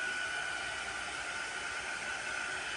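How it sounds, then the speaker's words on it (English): A heat gun blows hot air over chalk on a craft project, a steady loud hiss of airflow with a thin whine, unbroken throughout and with no talk. "I use a heat gun because I do a lot."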